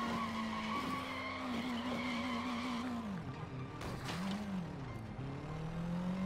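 In the Sleeping Dogs video game, car tires squeal and skid in long wavering screeches over a steady engine drone, loud and continuous with pitch bending through turns.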